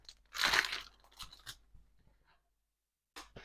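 A brief, loud crinkly tearing of a plastic packet of tights from a Temu order, followed by a few lighter rustles and crackles, then quiet before more rustling.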